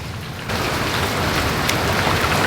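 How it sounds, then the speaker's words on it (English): Heavy springtime rain pours down steadily and loudly outdoors, with a deep rumble of thunder faintly underneath the dense hiss. "Hearing that thunder."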